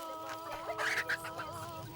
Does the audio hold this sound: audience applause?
no